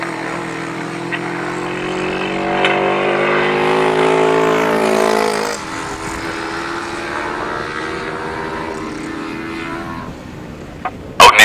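Grasstrack sidecar outfits with 500cc Suzuki engines race past, a loud, steady engine drone that swells, then drops away into a fainter rumble of distant machines, with a sharp clatter at the very end.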